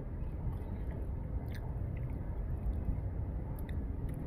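Chewing a Tim Hortons pretzel bagel with strawberry cream cheese, close and soft, with moist squishy mouth sounds and small clicks over a steady low background hum.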